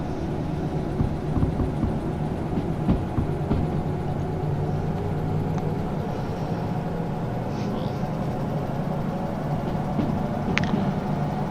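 A train rolls along in the railway simulation game Derail Valley, a steady low mechanical rumble with faint clanks throughout, loud and continuous.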